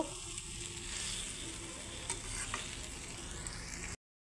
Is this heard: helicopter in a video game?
no